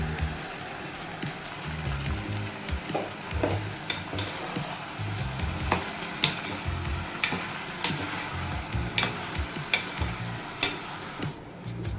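Cluster beans stir-frying in oil with garlic paste, a steady soft sizzle broken by repeated sharp scraping clicks of a spoon against the pan at a roughly regular rhythm, close and fairly quiet, with no voices.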